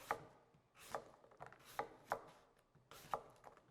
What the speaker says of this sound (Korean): 맛간장에 들어가는 사과와 생강을 먼저 편 썰어 보도록 하겠습니다